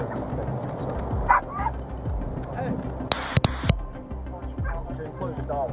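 A dog gives a few yips and barks under ongoing talk in an outdoor police encounter, with brief sharp clicks and background noise.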